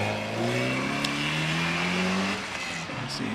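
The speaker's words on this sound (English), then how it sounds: "Away goes the Boxster off the line." A Porsche Boxster 981 with a 2.7 litre engine launches off the line at a Prescott hillclimb, its engine note climbing in pitch as it pulls away close by, then easing and fading slightly.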